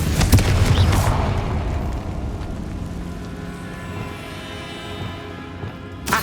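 Confringo fire spell cast in the video game Hogwarts Legacy, a loud booming blast at the start followed by a fading rumbling tail and crackle with faint game ambience.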